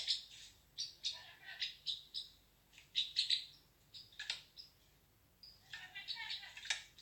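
A rescued baby gull under care, wearing an orange leg band, gives repeated high, thin peeping calls in short bursts, fairly close, with a few pauses between bursts.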